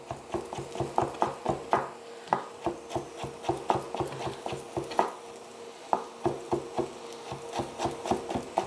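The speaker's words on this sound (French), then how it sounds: "On va couper un peu de persil et rajouter du persil." A knife chops fresh parsley on a cutting board while a mushroom risotto is being made, giving quick, rhythmic taps that come in short bursts with brief pauses, close and fairly quiet, with no talking.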